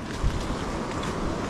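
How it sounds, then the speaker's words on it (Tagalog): Large ocean waves at Siargao island wash and roar steadily close by, mixed with wind buffeting the microphone and a brief low thump near the start; no one speaks. "Ang lalaki ng alon, no?"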